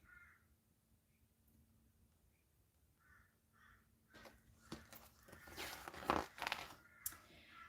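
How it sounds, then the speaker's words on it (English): A few faint crow caws spaced out in the distance, then nearby rustling and scraping noises grow louder. "you can hear the crows in the background"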